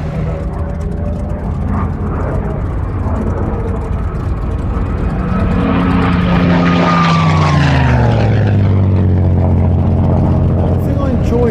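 A Messerschmitt Bf109 G-2 with an inverted V engine flies close by, its propeller and engine droning loudly and steadily, then rising in pitch and sweeping downward as it passes overhead.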